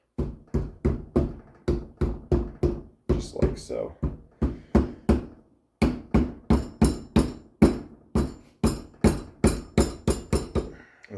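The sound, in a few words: rubber hammer tapping axle seal into place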